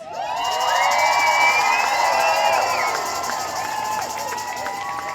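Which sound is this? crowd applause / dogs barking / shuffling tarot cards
crowd applause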